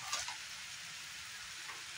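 Food with black pepper frying in a pan, a faint steady sizzle with a couple of soft stirring sounds, no speech.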